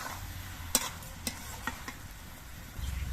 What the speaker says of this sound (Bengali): মিনিট 5 পর আমি ঢাকনাটা আবার খুলে নিচ্ছি আর নেড়ে দিচ্ছি।